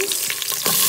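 Onions hit hot oil with urad dal, chana dal, curry leaves and green chilies for a masala dosa filling, giving a loud, close, hissing sizzle that jumps up in the final half second.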